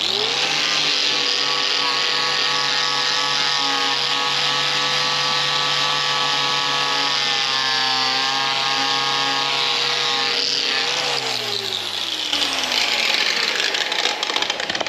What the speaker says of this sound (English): let's get stuck in with the grinder and the flat wheel and make it nice and shiny